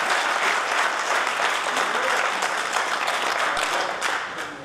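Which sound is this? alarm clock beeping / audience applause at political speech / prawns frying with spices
audience applause at political speech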